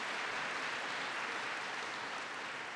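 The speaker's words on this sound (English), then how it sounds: "Give the mayor a big round of applause." Steady applause from an audience honoring Mayor Jennings at an economic address by President Obama, a dense, even wash of clapping that holds at the same level throughout with no voices over it.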